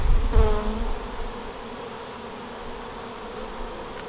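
Honey bees hum in a steady, dense drone around a new hive being inspected, with a brief louder buzz near the start and a few handling knocks.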